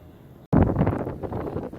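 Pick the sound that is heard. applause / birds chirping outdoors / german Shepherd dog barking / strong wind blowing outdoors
strong wind blowing outdoors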